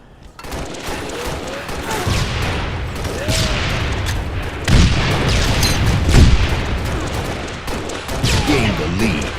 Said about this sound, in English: they are potentially going to be throwing grenades like crazy.